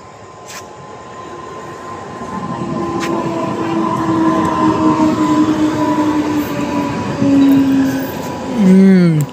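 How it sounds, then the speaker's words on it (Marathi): A train pulls into a station with a steady, swelling rumble of wheels on rails, rising louder as it nears and ending with a brief squeal of braking wheels; no one talks over it. "आता ट्रेन आली, ट्रेन मोकळीच आहे."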